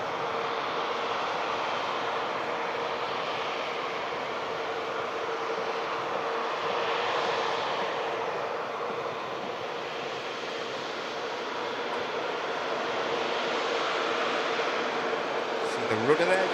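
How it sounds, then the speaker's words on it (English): An airliner arriving from Orlando taxis past toward Terminal 2, its jet engines giving a steady broad whine and rush that swells slightly as it passes, heard from nearby at an airport. "The rudder there, just assisting the steering a little bit as it taxis past us."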